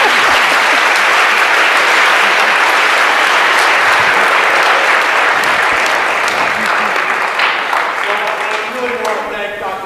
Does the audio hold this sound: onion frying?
no